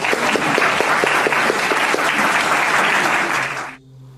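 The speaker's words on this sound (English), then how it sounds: "can we get a round of applause for how awesome that was?" Sustained audience applause fills a hall at a freethought talk, dense and loud, then cuts off sharply near the end into near silence.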